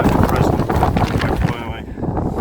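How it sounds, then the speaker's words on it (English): Strong wind buffets the microphone in loud, continuous rumbling gusts across grass, easing briefly near the end before roaring back. "It's unbelievably windy"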